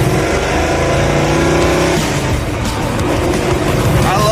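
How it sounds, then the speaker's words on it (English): A Dodge Charger muscle car accelerates with a loud, close engine roar that climbs steadily in pitch and stays dominant throughout, while people talk inside the car. "We're driving a Charger."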